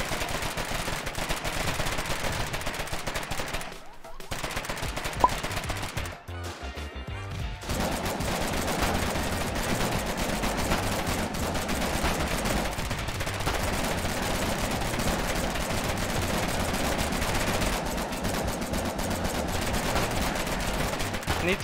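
Sustained machine-gun and rifle fire rattles loudly and almost without pause in a war video game, broken by one brief lull and then resuming as a dense barrage, with voices talking underneath.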